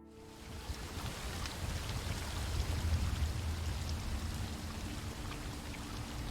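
A reverse waterfall in The Witcher 3 rushes with a constant, moderately faint watery roar and scattered droplet spatters, swelling slightly midway.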